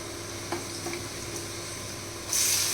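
Salt, turmeric and coriander-cumin powder fry in a pan with a steady close sizzle and faint stirring scrapes, the hiss swelling louder in the last half second.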